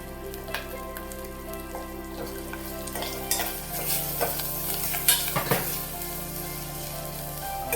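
Mutton kheema masala with chopped tomato frying and being stirred in a pan, a steady close sizzle broken by repeated scraping and stirring strokes that grow busier toward the end.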